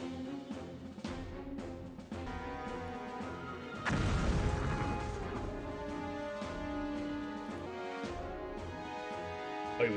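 An explosive boom from a volcanic eruption in the anime Code Geass: Akito the Exiled bursts out around the four-second mark, loud and crashing over a dense orchestral score that plays throughout.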